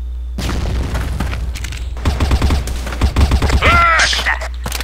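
A grenade explodes in the CrossFire shooter game with a sharp, loud boom and a burst of crackling debris, followed by a short run of pops and thuds. A player speaks before it goes off.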